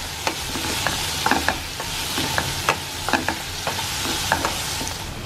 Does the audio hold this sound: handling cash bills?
no